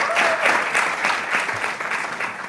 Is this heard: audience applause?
yes